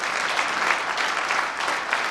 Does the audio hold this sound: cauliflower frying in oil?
no